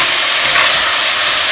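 Half a pound of beef chunks sizzling steadily in a pan of homemade chili while being stirred, a continuous close, fairly loud frying hiss with no talk.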